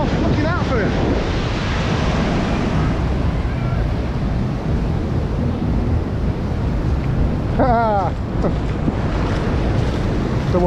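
Ocean waves rolling onto Baga Beach in Goa during monsoon season, a constant loud roar of surf with heavy wind buffeting the microphone, plus a brief faint tonal sound near the end.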